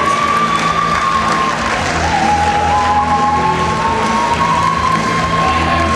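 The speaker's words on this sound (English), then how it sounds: "Please give a round of applause to the winners of this." Steady, loud audience applause with some cheering fills a youth environmental awards ceremony as winners are welcomed to the stage, a dense continuous wash of clapping throughout.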